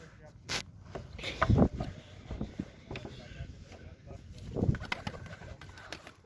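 Female domestic pigeons in a backyard loft, among them a mirror-tail and an Arab breed, give soft low cooing in a couple of bursts, moderately near, with someone talking over them.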